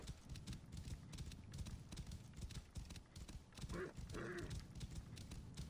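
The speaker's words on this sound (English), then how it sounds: "I really like how fast this horse runs." Horse gallops at speed in the video game Assassin's Creed Origins, with rapid, steady clip-clop hoofbeats throughout and a short whinny near the end.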